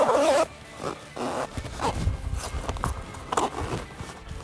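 Zipper being pulled along the window of a Jeep soft top, with several short rasping zips and handling noises around them, close and fairly loud.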